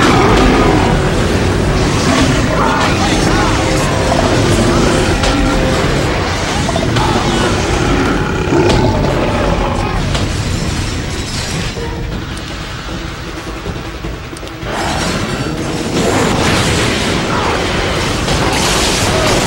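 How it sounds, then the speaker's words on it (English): Hydro tanks pound a floodgate in the Ratchet & Clank Future: A Crack In Time video game, with loud, continuous booming blasts, crashes and mechanical rumble that ease slightly midway before surging again. "those hydro tanks are attempting to destroy the floodgate."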